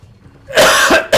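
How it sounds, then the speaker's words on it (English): A single close, harsh cough bursts out after a quiet moment, followed by a shorter second cough. "Sorry, I've still got a little bit of a cough"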